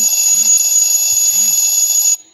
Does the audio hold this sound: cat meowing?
no